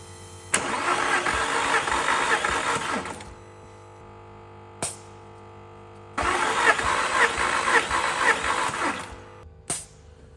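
An old Audi S3 engine cranks over during a compression check in two long bursts of rapid, rhythmic churning, each about three seconds, separated by quiet pauses and sharp clicks.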